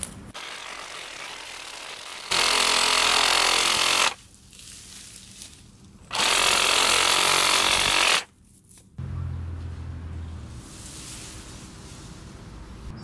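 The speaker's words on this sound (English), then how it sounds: "I'm just going to use the Sawzall because it's easy." A reciprocating saw cuts an elm tree close to the ground in two loud, steady bursts of about two seconds each. Between them a quieter mechanical rattle continues.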